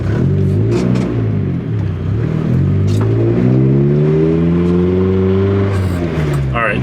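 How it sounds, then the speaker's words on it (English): An old, long-neglected Geo Tracker runs while driving, its engine revving up and down loudly and continuously, with a worn throwout bearing grinding and whirring underneath. "weird grinding bearing noise you're hearing is the throwout bearing"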